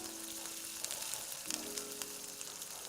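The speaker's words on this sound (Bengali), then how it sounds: "এখন যে মশলাগুলো আমি দেখালাম সবগুলো আমি তেলে দিয়ে দেবো" Whole spices, cumin, bay leaf, cardamom, cinnamon and dried chili, fry in hot oil for a duck curry, making a steady, soft, close hiss and sizzle with faint crackles and no voices.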